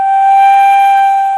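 A single harmonic G, fingered with a low C fingering, rings as a steady, clear and fairly loud sustained note for just over a second, with no other sound around it.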